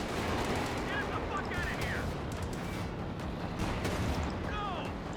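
Gunfire from US forces in the video game Company of Heroes 2, dense continuous rattling shots and battle noise over a steady rumble, with no gaps across the clip.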